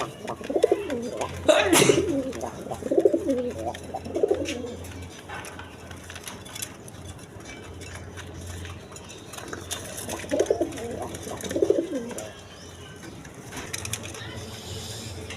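Pigeons at a pigeon seller's stall give soft, rolling coos in a few short bursts, near and moderately loud, with quieter rustling and background noise between them.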